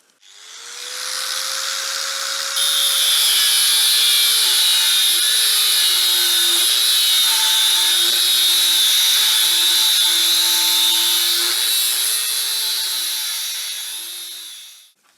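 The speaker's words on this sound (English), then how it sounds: "trim that off with the angle grinder" An angle grinder trims the end off a metal lathe tool rest for bowl turning, a loud steady whine with a wavering pitch that holds for about thirteen seconds before winding down at the close.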